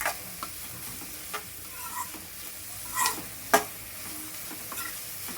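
Onions fry in a pan with a soft, steady sizzle while a spoon stirs them, giving occasional scraping clicks and taps, one sharper knock toward the end.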